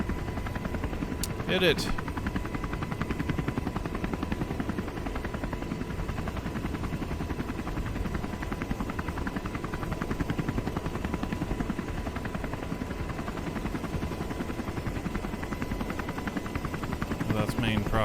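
A helicopter's main rotor whirs steadily in a game as it spins up for takeoff, a constant dense drone lasting throughout with a brief sharp click near the start, while someone talks over it.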